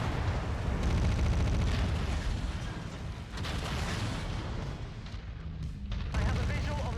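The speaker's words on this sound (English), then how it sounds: "Well, Rihanna, the target's already taking a hell of a lot of missile fire." Incoming missile fire and explosions in a video game battle against an Atlas RS target form a continuous wall of heavy booms and blasts, loud and sustained throughout.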